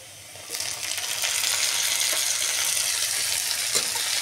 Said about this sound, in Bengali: দেখুন পেঁয়াজগুলো আমি সুন্দর করে ভেজে নিচ্ছি।